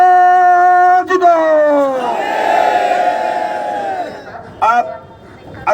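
A crowd at a transport workers' union rally shouts back a slogan in unison, a loud massed roar of voices that swells, holds, then breaks into scattered shouts.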